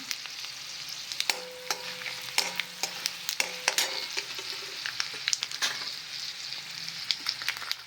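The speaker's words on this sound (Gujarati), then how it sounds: "વઘાર થઈ ગયો છે." Fenugreek seeds and asafoetida crackle in hot oil as a tempering for tomato chutney, a soft sizzle broken by scattered sharp pops and occasional stirring clinks, fairly quiet and with no talking.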